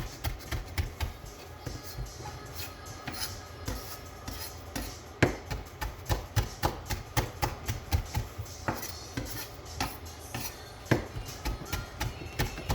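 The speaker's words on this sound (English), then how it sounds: "So what I'm chopping up here is fresh rosemary." Fresh rosemary being roughly chopped with a knife on a cutting board for a veggie pasta sauce, a steady run of sharp, close taps and thuds repeating quickly throughout without talk.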